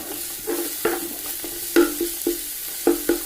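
Garlic frying in a pan for madhoot rice, a soft steady sizzle broken by repeated scraping stirs of a spoon against the pan, close and loud, with no talking.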